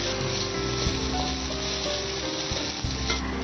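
Crushed masala spices frying in a pan for egg biryani, a steady close sizzle with faint scraping stirs, no talking.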